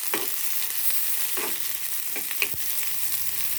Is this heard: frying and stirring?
yes